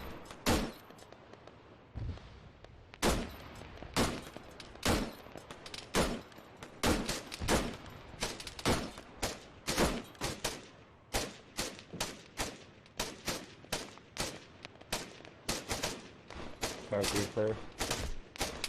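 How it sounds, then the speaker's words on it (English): Rifle fire in the military shooter game Arma 3, a long run of loud, sharp single shots at a fairly steady rhythm, each with a short echoing tail, close and dominant. "so I'm going to try and shoot these guys"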